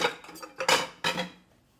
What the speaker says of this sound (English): Throw these into the sink.